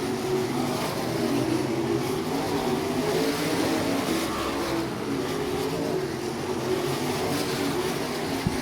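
Sprint cars racing around the Zanesville, Ohio speedway during an All Star Circuit of Champions event, a continuous distant roar of engines with no clear pass-bys.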